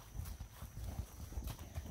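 Horse hooves clip-clop steadily on a dirt trail, a rhythmic run of muffled, fairly close footfalls with no talking, over a low background rumble.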